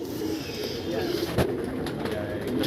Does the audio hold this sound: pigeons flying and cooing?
yes